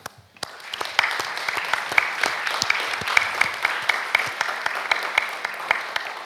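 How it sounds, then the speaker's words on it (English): Audience applause rising quickly to close a panel discussion at a district-heating industry event, steady dense clapping from a crowd held for several seconds with no talk over it. "Big applause."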